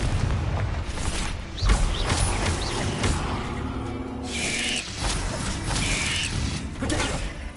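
Confringo fire spell cast in Hogwarts Legacy, a dense roaring whoosh of magical flame with mechanical clanks and booming bursts, loud and continuous throughout with a couple of brighter flares near the end.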